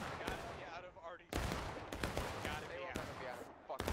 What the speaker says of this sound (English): Wait for artillery to hit right here.